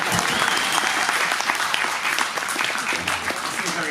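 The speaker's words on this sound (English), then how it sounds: "trying to take applause for that" An audience at a web developers' conference bursts into loud, sustained applause, a dense wash of clapping that fills the whole moment with no break.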